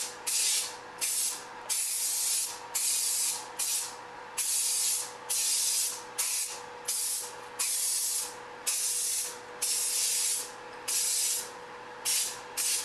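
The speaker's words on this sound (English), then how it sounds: "So I'm just gonna coat it with the bed spray." Bed liner coating is sprayed onto Synergy Kahuna e-bike parts in a cold garage in repeated hissing bursts of one to two seconds with short gaps, loud and close, while a faint steady hum runs underneath.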